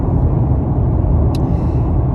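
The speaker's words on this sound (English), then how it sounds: "I am driving home" Inside a car driving home, a loud, steady low road rumble and engine drone fills the cabin, with one brief high click partway through.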